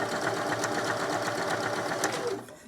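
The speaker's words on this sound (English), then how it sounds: "So what I'm going to do is start the buttonhole." A Janome mechanical drop-in bobbin sewing machine stitches a manual buttonhole, running at a steady, fast rhythmic hum close up before stopping near the end.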